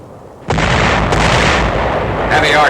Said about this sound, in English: Heavy artillery on the mainland paves the way for another landing on Walcheren.